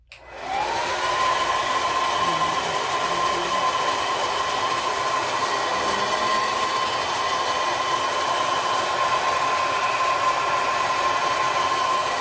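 A handheld hair dryer runs at medium speed while short hair is blow-dried, giving a loud, steady rushing blast with a thin constant whine that holds unchanged throughout, with no voices.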